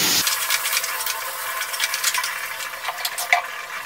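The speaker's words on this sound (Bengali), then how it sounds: "এই চালটা আমি দিয়ে দিচ্ছি এর মধ্যে। সব কিছু ভালো করে মিশিয়ে নিচ্ছি।" Rice being stirred into a pan of banana stem curry, with soft scraping and sizzling frying sounds running steadily and close, no voices.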